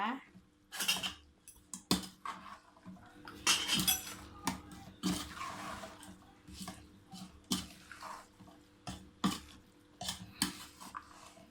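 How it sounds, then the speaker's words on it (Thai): Ingredients for Thai larb pork are stirred in a bowl, a spoon clinking and scraping against the dish in uneven bursts, close up and fairly quiet. "ใส่ทุกอย่าง ลงไป แล้วก็คนนะคะ"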